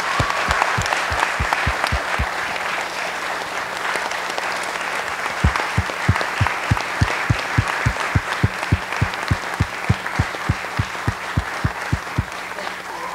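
Audience applause for 2017 scholarship recipients during a church service, a steady clapping crowd with sharp individual claps standing out throughout, continuous and moderately loud with no talk.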